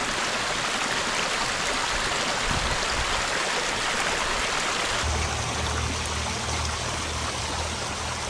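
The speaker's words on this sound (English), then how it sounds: "we're just along this beautiful little roadside stream" A small roadside stream in the Blue Ridge mountains, prime salamander habitat, gives a steady close rushing and trickling flow that fills the whole clip without pause.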